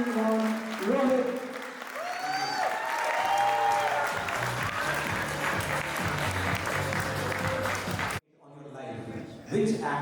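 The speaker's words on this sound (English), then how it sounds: "give a round of applause for Rohit" Applause from an audience at a cricket coaching event in a US cricket store, a dense clatter with cheering voices laid over it for about eight seconds before it cuts off abruptly, leaving a few brief murmurs.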